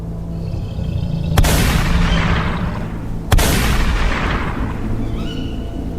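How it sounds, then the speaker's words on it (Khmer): Two loud rifle shots fired at a forest ghost in an animated horror tale, about two seconds apart, each a sharp crack with a long echoing decay over a steady low rumble, with no talking. "លើកកំភ្លើងតម្រង់ខ្ជុំបាញ់ទៅកាន់ខ្មោចព្រៃនោះទៅ"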